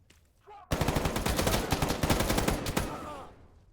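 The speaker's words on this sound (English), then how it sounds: "these mercs opened fire on me" Mercenaries open fire in the S.T.A.L.K.E.R. GAMMA video game, a dense burst of rapid automatic gunshots that starts abruptly, rattles loudly for about two seconds, then fades.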